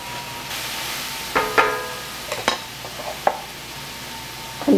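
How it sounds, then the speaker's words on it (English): Chopped vegetables sizzle in a pan as they brown, a soft steady hiss broken by several sharp clinks and scrapes of a utensil stirring against the pan. "I hear the veggies sizzling."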